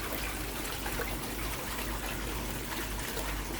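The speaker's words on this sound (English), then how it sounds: "Thankfully the water's still running through the filter." Water trickling and splashing through a garden pond pyramid filter, a steady close wash of running water holding at an even level with no talk.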